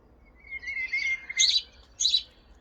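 House sparrow chirping call in a garden or coastal setting: a thin trailing note followed by two bright, short chirp bursts, close and clear over a quiet background.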